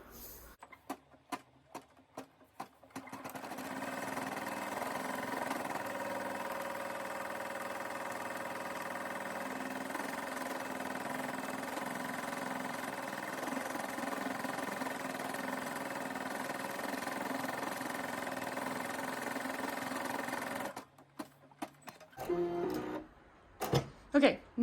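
A home embroidery machine stitches out a tack-down on a design, a steady mechanical whir with a fast stitching pulse running continuously for about eighteen seconds, then stopping, followed by brief clicks and handling noises.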